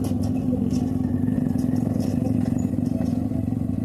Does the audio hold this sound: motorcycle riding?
yes